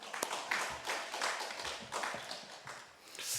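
A church congregation at an early-morning prayer service applauds the accompanist, a short burst of soft, scattered clapping at moderate distance.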